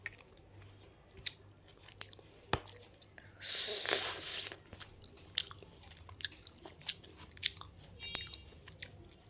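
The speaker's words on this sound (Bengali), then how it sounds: "যতক্ষণ লেবুটা আমি খাই আমার সাথে থাকো তোমরা" A lemon is being eaten, with soft close chewing and irregular crunchy bites across the clip and a brief louder rustle near the middle; quiet whispered speech is mixed in.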